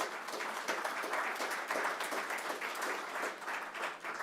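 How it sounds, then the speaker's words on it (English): Audience applause at a community announcement event, steady dense clapping from a crowd lasting throughout, moderately loud and without speech. "Let's give them a round of applause for considering us."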